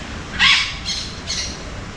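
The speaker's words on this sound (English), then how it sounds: "I hear parrots." Parrots calling in a thick bamboo forest: three shrill, scratchy squawks spaced about half a second apart, the first loudest, over a low steady background rumble.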